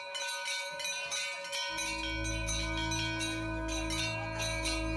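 Temple bells ring continuously during the Ganga aarti on the riverbank, a loud, sustained metallic ringing that fills the scene, with a deep droning tone joining partway through.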